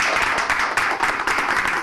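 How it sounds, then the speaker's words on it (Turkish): Applause for Uğur Bayar on a Turkish TV show, a steady dense wash of clapping that fills the moment, loud and close with no talk over it. "Uğur Bayar'a çok büyük alkış hocam"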